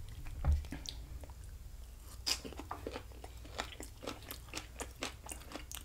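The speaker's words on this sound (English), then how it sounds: "I'm gonna eat the lemon." Close, crunchy chewing of lemon and roasted vegetables from a turkey dinner, with repeated moist bites and mastication in an irregular rhythm, quiet and without talk.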